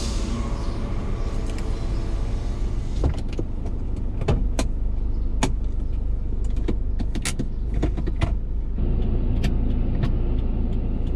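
A car idles at a roadside gas station on the Rio-Bahia highway, pulling forward a little and stopping under a steady loud engine rumble, with scattered clicks and knocks.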